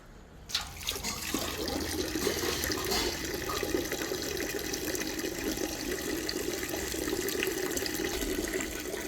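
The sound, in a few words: water running while a dog is being washed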